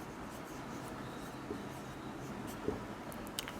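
Chalk or marker scratches quietly across a classroom board in short, soft strokes over a faint room hiss, with a few small taps.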